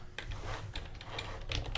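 Fast, close typing on a computer keyboard, a quick run of light key clicks with a few louder strokes, heard alone while coding a top-down action game.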